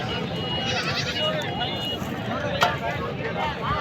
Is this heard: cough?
no